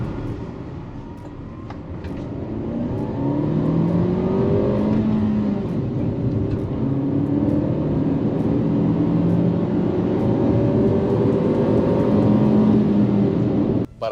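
A 2023 MG ZS petrol car accelerating hard after a downshift, its engine note climbing in steady rising sweeps with a continuous road and wind roar, loud and close, with no voices.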